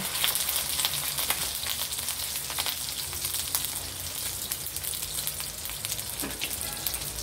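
Burger steak frying in a pan, a dense, even sizzle and crackle that holds steady throughout, close and fairly loud with no voices.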